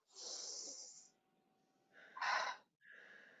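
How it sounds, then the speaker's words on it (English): A person breathing slowly in and out during a guided forgiveness session, a long airy inhale, a pause, then a stronger breathy exhale followed by another breath, close and quiet. "And breathe in and breathe out."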